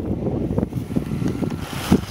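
Strong outdoor wind buffeting a microphone during a drone flight, a loud low rumbling roar with irregular gusty thumps throughout, no speech.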